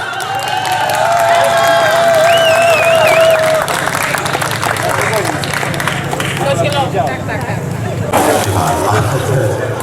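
An audience at a community event in Puck claps and cheers in steady, loud applause that fills the room, with a few voices calling out and a tonal sound briefly rising above the crowd.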